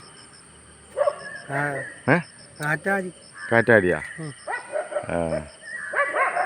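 Dogs on a roadside let out short, near barks and yelps, mixed in with people chatting over them.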